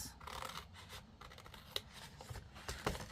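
Scissors cut through a journal cover in short irregular snips and scratchy paper rubs, quiet and close with small sharp clicks between strokes.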